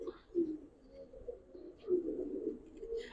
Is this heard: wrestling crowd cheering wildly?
no